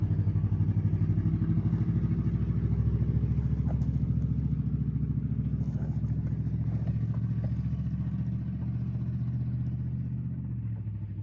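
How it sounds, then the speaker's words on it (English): Heavy trucks roll past on a nearby road, a steady loud engine rumble and clatter that swells and holds for several seconds before easing slightly, with no talk over it. "There's a lot of loud trucks going by today."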